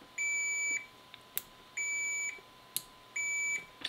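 Three steady high-pitched electronic beeps from a multimeter continuity test, each lasting about half a second, evenly spaced with faint clicks between them.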